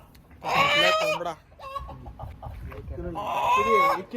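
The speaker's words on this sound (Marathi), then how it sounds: "1 किलो कोंबडा" A rooster in a family's rural village yard near Nashik clucks in several close, loud bursts, with a few shorter calls in between and human voices faintly under it.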